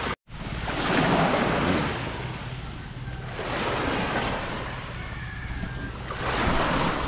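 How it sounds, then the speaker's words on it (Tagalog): Ocean surf breaking on a shore at night under light drizzle, with broad rolling swells that rise and fall about every three seconds, steady and fairly close, mixed with wind rumble against the microphone. "Gilid na dinig oh, alon."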